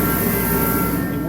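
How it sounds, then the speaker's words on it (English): Heater fan running inside a Ford Taurus, a loud continuous whooshing blower noise with a steady low hum throughout. "I do have the heater on right now, so pardon the noise"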